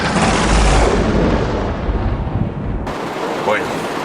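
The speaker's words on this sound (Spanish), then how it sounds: "Rayos, truenos." Thunder during a tropical storm, a loud continuous rumble with crackling, heavy low roar that fills the scene and then tapers into a softer rolling after a sudden cut.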